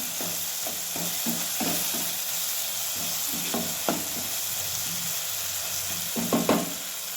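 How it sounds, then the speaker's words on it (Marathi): A spoon scrapes and stirs okra curry with fried onion, tomato and finely chopped coriander in a pan, soft sizzling throughout with repeated rhythmic scraping strokes, the last few louder and closer. "आता ह्यात टाकूया बारीक चिरलेली कोथिंबीर मिक्स करूया"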